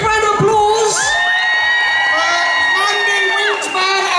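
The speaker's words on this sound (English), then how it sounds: "Big round of applause." A loud crowd at an outdoor Pride festival main stage erupts in shrill cheers, whoops and high-pitched shouting that carries on without pause for several seconds.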